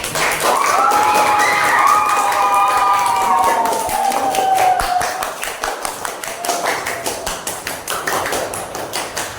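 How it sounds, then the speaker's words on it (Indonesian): Classroom applause for a group of schoolchildren who just presented, growing into steady rhythmic clapping from many hands nearby, with a voice talking briefly over the start. "tepuk tangan untuk kelompok yang keempat"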